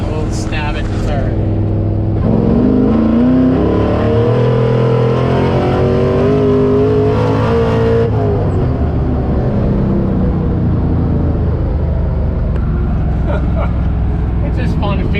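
A supercharged LS-swapped 1969 C10 pickup truck revs hard as it accelerates. The engine drone rises in pitch, drops, then climbs again and holds loud and close the whole way, with speech-like sound mixed in.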